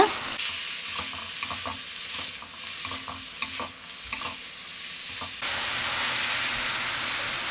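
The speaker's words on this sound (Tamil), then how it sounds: "கீரை நல்லா வதங்கணும்." Greens sauté in a pan with salt and oyster sauce for a fish dish, with a run of close spatula scrapes and taps over continuous sizzling that then settles into a steady hiss.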